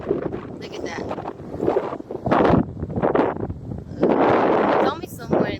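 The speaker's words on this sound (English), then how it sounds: "It's windy" Wind blows hard on a beach in Hawaii, buffeting the microphone in rough gusts that rise and fall. Surf and people talking can be heard faintly beneath it.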